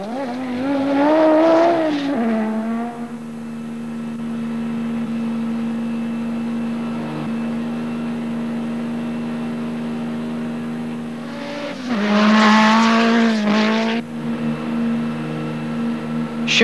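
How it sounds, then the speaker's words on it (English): Rally cars from the 1987 Pikes Peak hill climb, among them an Audi Quattro, Lancia Delta S4, twin-engine Golf, Peugeot 205 T16, Ford RS200 and Mazda RX-7, scream past with loud revving engines that fade to a distant drone before another surges close. "the slowest cars are the 2-engine Golf with Kleint Anderson's Audi Quattro and Alessandra's Delta"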